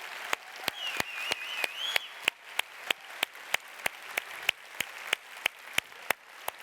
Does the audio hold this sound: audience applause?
yes